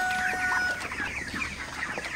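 Broiler chickens on a farm cluck and murmur in a steady chorus close by, their soft overlapping calls continuing without a break.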